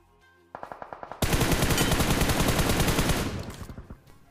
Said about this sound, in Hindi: लेकिन अभी मेरे को सामने वाले कंपाउंड से बंदों का गन साउंड आ ही रहा था